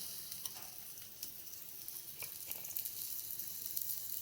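Nil phanosh vegetable pieces frying in hot oil over a low flame, a steady soft sizzle with faint crackles and pops throughout, fairly quiet and without talk.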